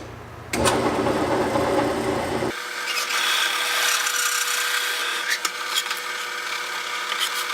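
Power drill boring holes in wood while building a BMW roll cage, the motor whining at a steady high pitch, first loaded with a rough grinding rasp, then spinning more freely, loud and close with no talk.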